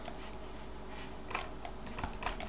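Computer keyboard keys and mouse clicks during work in Modo: a few light, irregular taps and clicks, close and faint over a steady background hiss, with no talking.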